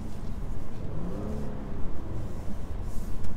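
A 2012 Mercedes C350 coupe pulls away hard with stability control off, its engine revving and rising in pitch steadily while traction control cuts in, heard from inside the car without talk.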